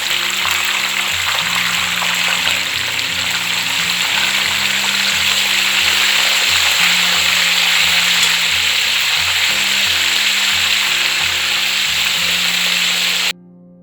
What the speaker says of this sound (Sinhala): දැන් මම මස් ටික දාගෙන හොඳට රන්වන් පාට වෙනකන් බෙද ගන්නවා.